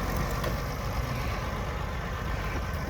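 A tractor engine runs steadily at low revs while it drags a leftover cluster-munition casing out of a farm field in a war zone near Kharkiv. The rumble is continuous and fairly close, with no speech over it.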